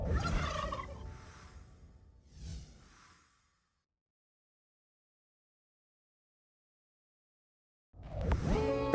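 A broad-breasted turkey tom gobbles in a short rattling burst at the start, followed by a fainter call and a long silence, with another loud burst of sound near the end.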